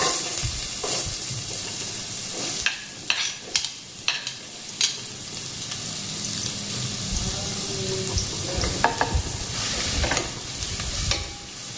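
Onion frying in oil in a home kitchen pan for a Goan egg chilli, a steady close sizzle broken by repeated scraping stirs of a spatula, with no voices.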